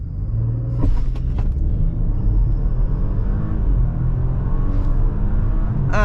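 Volkswagen Touareg R e-hybrid luxury SUV accelerating hard in sport mode, a loud, steady engine rumble building over several seconds with brief shifts in tone and no talking.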